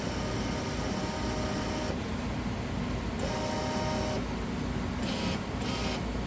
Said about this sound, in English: I'm going to go ahead and move the print head over.